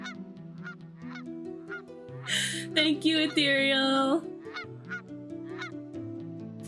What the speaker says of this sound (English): Some goose is screaming somewhere.